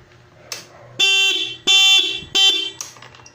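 An alarm from a wireless kill switch on an Easyride 150Q FI motorcycle blares in loud, harsh horn-like tones: a brief chirp, then three long, evenly spaced blasts with short gaps between them, close by.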